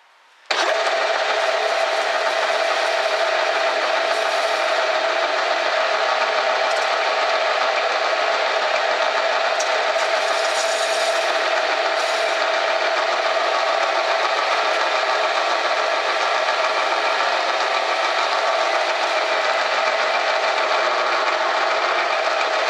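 A cutter grinds grooves into a Crosman 2240 muzzle brake with a steady, unbroken machining whine and rasp that stays loud and even throughout, with no voices.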